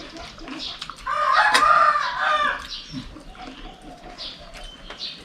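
Chickens cluck and a rooster crows loudly over steady background chatter of farmyard birds, fairly close, at a Thai farmyard.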